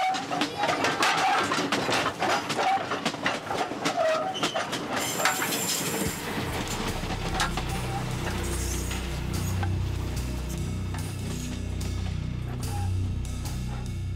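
A train moves along a railway in Congo, its wheels clattering loudly and steadily, with a few squeals, before settling into a lower, even rumble.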